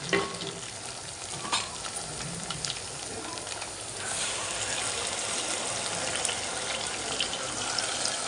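Masala paste fries with onion in a pan for tomato rice, making a continuous close sizzle with a few stirring knocks early on. The hiss grows louder and denser partway through.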